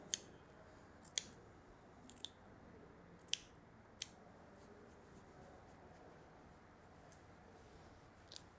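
Scissors trimming the long outer strands of a macrame leaf feather fringe, giving sharp isolated snips at an uneven pace, several close together early and a few sparse cuts later, quiet and close with no talking.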